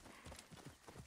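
A horse in Assassin's Creed Origins clip-clops with quick, rhythmic hoofbeats, fairly faint, over about a second.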